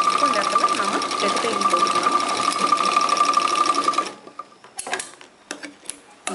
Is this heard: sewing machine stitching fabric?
yes